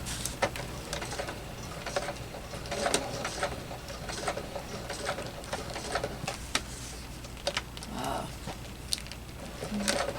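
Sewing machine slowly stitching vinyl along a zipper with a zipper foot while making a small zipper pouch, a steady soft mechanical patter with faint ticks running throughout at low level.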